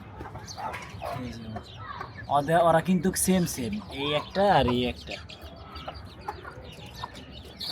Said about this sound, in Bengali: আমাদের আরও একটা কুচি মুরগি বসে আছে, সেটা হচ্ছে এই যে এখানে।